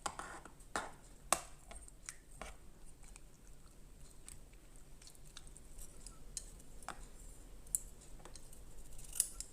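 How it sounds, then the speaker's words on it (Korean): Scissors or a knife cutting through pickled dried radish, a series of crisp, fairly faint snips and crunchy clicks scattered irregularly over a quiet background, with no talking. "이 촉감이 무 말랭이 자르는 느낌입니다"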